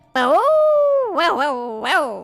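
A dog whimpers and whines in a drawn-out, pitched cry followed by two shorter rising whines, loud and close, with a voice-like tonal quality that suggests a person imitating it.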